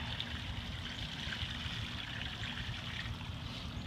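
Water pours and trickles steadily onto a load of laundry in an off-grid washer, a soft continuous splashing stream close by with no voices.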